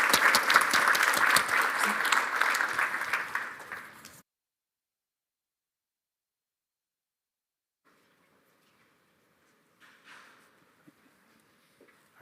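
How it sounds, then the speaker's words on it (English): Audience at a TypeScript AI conference applauding panelists, dense close clapping for about four seconds before cutting to near silence, with faint rustling later. "Please give them a round of applause."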